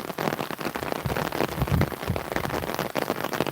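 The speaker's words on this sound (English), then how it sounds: "See, now there's actually quite a bit of rain." Fairly heavy rain comes down steadily as a dense, close patter across the whole stretch, with no voices over it.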